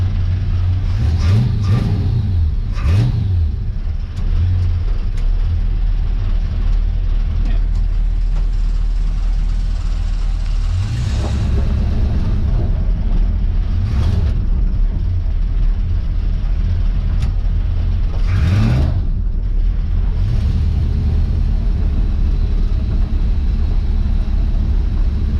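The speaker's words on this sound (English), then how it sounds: "this should be, I think, good enough for a burnout, or good enough for a test drive for sure" A race-modified car's engine revs hard in three bursts, with a steady rumbling idle between them, heard close up and loud.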